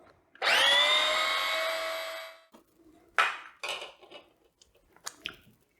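A food processor whizzes smoked salmon pate with a pinch of salt in a short, loud, steady whir of about two seconds, followed by a few brief knocks and scrapes as it stops.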